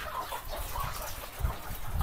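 Chickens in a large poultry building cluck and murmur in a dense, distant wash of noise, with no distinct single call standing out.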